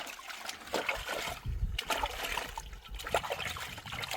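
Water poured into a cooking pot in a home kitchen: a quiet, steady trickle and splashing, faint and close, with no talking over it.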